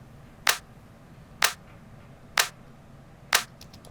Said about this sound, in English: And there's the snare, and that's just hitting the snare. But and it's very small. It's not a big snare at all. It gets layered with this clap.